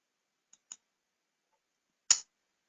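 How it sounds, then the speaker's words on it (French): Mouse clicks during computer software work: two faint quick clicks, then a sharper louder click about a second and a half later, isolated against silence. "on clique droit sur les calculateurs"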